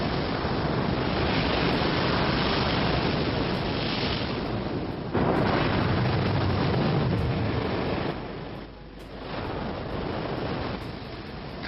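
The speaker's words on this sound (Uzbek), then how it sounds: "Tinch okyanning g'oyat zo'r to'lqinlari Galapagos taqim orolining eng sharqiy uchidagi Douglas to'mishqa urilmoqda" Loud, continuous roar of Pacific surf with heavy swells crashing on rocks at Douglas Point, Galapagos Islands, dipping briefly before building again, with wind buffeting throughout.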